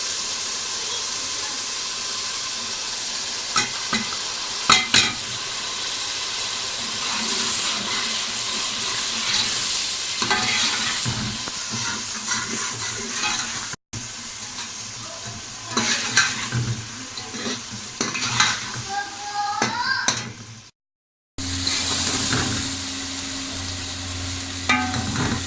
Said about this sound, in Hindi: अब हमारा ये मसाला भुन चुका है